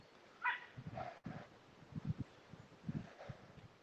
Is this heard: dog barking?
yes